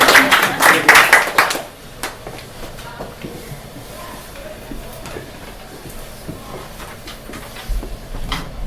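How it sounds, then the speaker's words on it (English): Warm audience applause at an evening poetry reading, a dense burst of clapping that lasts under two seconds and then drops away into a quiet room hush. "Give him a warm round of applause."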